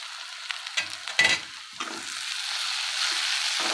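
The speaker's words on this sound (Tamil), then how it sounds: "இது இப்போ நமக்கு இந்த எண்ணெயிலே வந்து பொரிஞ்சிரும் பாருங்கள்" Dried ribbonfish frying in oil for thokku crackles and sizzles close up, with a few sharp stirring scrapes early on before settling into a steady, even sizzle; no one speaks.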